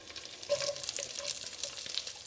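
Shallots fry in hot oil with mustard seeds and curry leaves for a Kerala-style mung dal, making a soft, steady sizzle with small crackles and light stirring. It stays fairly quiet for a couple of seconds.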